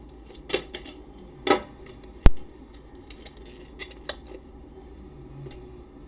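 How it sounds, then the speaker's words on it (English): Scissors cutting through the plastic packaging of an 8 GB USB drive, heard as a few separate crisp snips and crackles with one sharp loud clack, close up and without voices. "cut the plastic, don't cut your finger."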